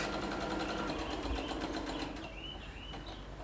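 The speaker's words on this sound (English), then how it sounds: "So we're just doing a little top stitch around the edge" A sewing machine top-stitches around the edge of a roll-up bag, a fast, steady, buzzing run of needle strokes, close and loud. It eases to a quieter hum after about two seconds, with no talking.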